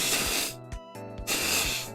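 A person blows their nose hard in a few forceful, hissing bursts with brief pauses between them, loud and close.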